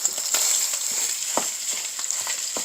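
Italian meat sizzling in hamburger grease in a pan, a steady bright hiss of frying with intermittent scraping stir sounds, close and alone.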